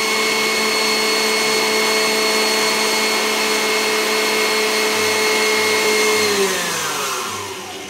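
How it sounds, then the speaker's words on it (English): Electric mixer whisking egg whites with sugar for Italian meringue buttercream gives a loud, steady motor whine with a constant pitch, close up, then winds down and slows toward the end. "Once the egg whites are stiff, you need to gradually whisk in the sugar"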